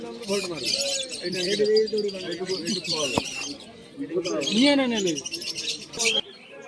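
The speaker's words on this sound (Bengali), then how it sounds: "কিছু ম্যান্ডাস পায়রা এবং কিছু অন্যান্য পায়রা রয়েছে" Pigeons coo in low, rolling repeated calls amid busy background chatter and a sharp click at a crowded pigeon market in Birnagar.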